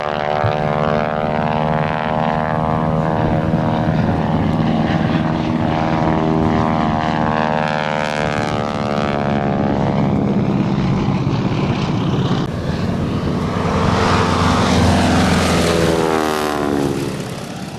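Modified 450 HP 1942 Boeing Stearman biplane converted to crop duster, its radial engine droning loudly and steadily as it flies past, the pitch sliding downward as it passes.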